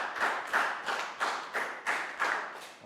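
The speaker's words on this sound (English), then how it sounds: "Round of applause for Sue." A small group claps in a classroom English lesson, about seven distinct bursts of clapping at a steady, evenly spaced rhythm, fairly quiet and close.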